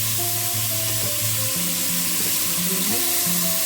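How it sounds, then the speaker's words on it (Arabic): Meat browning in hot oil in a pot with turmeric, garlic and onion for white bean stew, a loud, close, continuous sizzle with stirring, and background music playing underneath. "وهسه راح أدير عليه اللحم مالتي وأحمصه"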